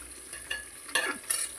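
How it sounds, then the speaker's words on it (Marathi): Tomato and onion frying in oil, a soft sizzle with a few brief stirring scrapes and clatters of a spoon, close but faint. "आपला टोमॅटो पण इथे चांगलं तेलामध्ये फ्राय होतोय"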